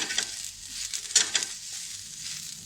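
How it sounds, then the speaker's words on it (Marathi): Onion sizzling and crackling on a hot griddle pan, with a few sharp stirring scrapes, steady and close, no voices. "आता आपण हा तवा तापत ठेवला आहे आणि आपण कांदा हा त्याच्यामध्ये टाकला भाजण्यासाठी."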